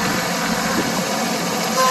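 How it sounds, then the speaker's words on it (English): A Deutz Allis 5215 compact tractor with a diesel engine runs steadily nearby, a continuous idling rumble with a faint whine on top. "Got a diesel engine"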